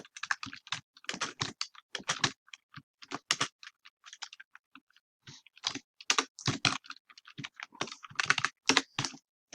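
Typing on a computer keyboard, rapid close clicky keystrokes in uneven bursts with short pauses between words, alone without talk.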